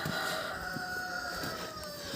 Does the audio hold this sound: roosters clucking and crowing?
yes